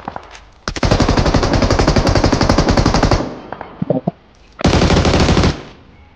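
Automatic gunfire from the PUBG Mobile battle royale game: a loud sustained burst of rapid shots lasting over two seconds, a few scattered single shots, then another dense burst close up.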